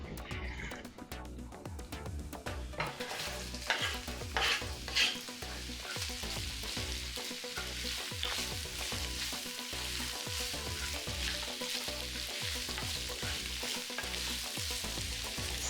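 Onions sauté and sizzle in a pan with browned beef bits for a beef stew, a steady loud frying hiss broken by repeated stirring scrapes throughout, with no talk.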